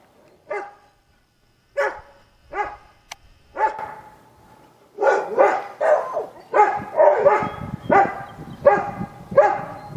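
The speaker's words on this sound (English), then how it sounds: "My dogs are barking at them as if they're going to be able to get them." Several dogs bark repeatedly at a bird outdoors on a farm, starting as sparse separate barks and building to dense overlapping barking, fairly close and loud.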